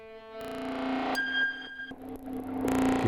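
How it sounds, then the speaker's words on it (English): An Elektron Octatrack comb filter, its pitch modulated by sample and hold, makes a synthesized metallic tone step abruptly between pitches in a random, stair-like pattern, with resonant ringing harmonics and no voices. "If I were to modulate this comb pitch setting with the sample and hold"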